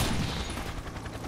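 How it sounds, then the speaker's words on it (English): Shotgun fire from 50 Cent: Blood on the Sand, heard as a loud, close burst of booming gunfire that tails off into rumbling echoes, with no voices over it. "That is a shotgun."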